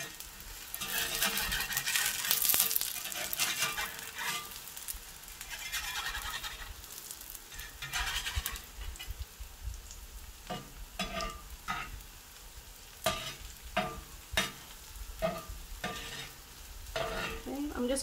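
Cornbread fritters frying in plenty of oil in a pan, a steady crackling sizzle, louder early on, broken later by a run of sharp spatula taps and scrapes as the fritters are moved around.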